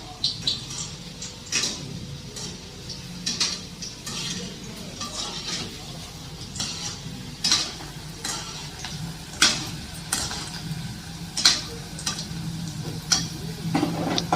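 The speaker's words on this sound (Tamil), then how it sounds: "அதனால கொஞ்சமா போட்டுட்டு அப்பப்போ பொரிச்சு எடுத்துருங்க" Egg pakoda frying in hot oil, a steady low sizzle with sharp ladle clicks and metal scraping against the pan at irregular intervals, close and moderately loud.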